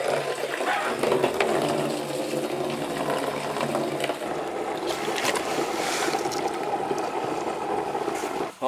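Water pours steadily into a maple sap collection barrel from a hot and cold spigot, a constant rushing and splashing that stays fairly close and even throughout.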